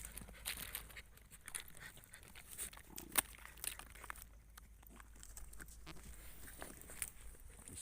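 Dogs pant steadily and shuffle around while waiting in an urban area, a soft, quick, rhythmic breathing with light scuffs and footfalls and an occasional sharper tap, close and fairly faint.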